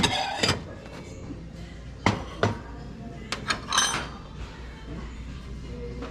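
Black matte ceramic bowls knocked and clinked together while being handled in a thrift store, several sharp, bright clacks scattered across the moment, some in quick pairs, over a faint background murmur.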